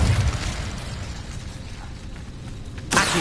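The Incendio fire spell cast in the video game Hogwarts Legacy, a rushing, crackling burst of magical flame that holds steady and then swells with a fresh whoosh near the end.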